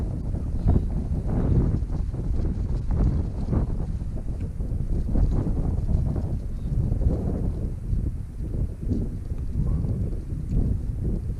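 Strong, continuous wind gusting across a winter wild camp on Hallin Fell in the Lake District, buffeting the microphone with loud, rumbling roar throughout, no voices.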